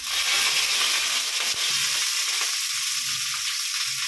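Sliced green chillies hit hot oil already crackling with popped mustard seeds, giving a loud, dense sizzle that holds steady and drops slightly after a sharp clink, with nobody speaking.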